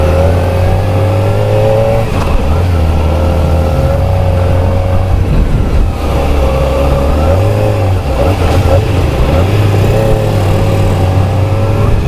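Modenas ZX-4R motorcycle engine running loud and close for the whole stretch, with a steady low drone and a couple of rising rev swells and dips, no talking over it.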